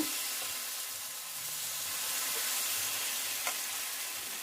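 Gola paratha batter, two spoonfuls of mixture poured onto a pan with a little hot oil, gives a steady, even sizzle and crackle throughout, close and moderately loud, with no voice.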